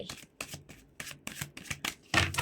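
Tarot cards are shuffled in a series of quick, crisp riffles and flicks, about eight close bursts, ending in a louder flurry.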